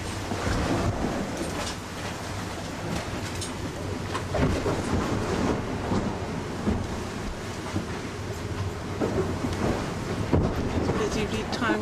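A force 10 storm at sea during a sailing cruise: steady roaring wind and crashing heavy seas with a deep rumble, loud and unbroken throughout, with a voice faintly underneath.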